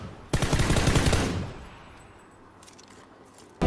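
A rapid burst of gunfire rattles loudly for about a second, then fades into a quiet tail, with no one talking over it.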